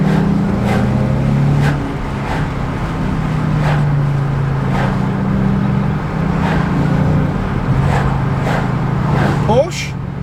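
A car engine holds a steady hum in second gear at about 3,000 RPM on winding roads, droning throughout with a brief dip, while someone talks over it.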